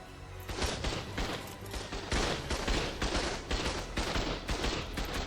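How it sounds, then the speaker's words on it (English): Gun turrets fire continuously during a wave defense in Ark Survival Ascended, Lost Colony: rapid overlapping bursts of gunfire, sustained and fairly distant, with no one talking. "the guns are doing work back here for now"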